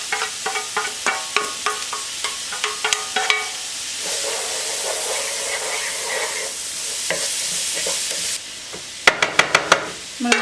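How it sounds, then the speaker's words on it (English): Diced vegetables fry in a pan with a continuous sizzle, broken up by rhythmic scraping and tapping of a spoon as they are stirred, ending in a quick burst of clatter. "And all I'm doing really is cook all the vegetables I just diced."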